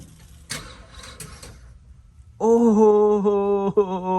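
A car engine is cold-started on a cold New Jersey day: a few stuttering starter cranks, a short pause, then the engine catches and settles into a loud, steady idle with a brief dip in revs. It is close, with no voices.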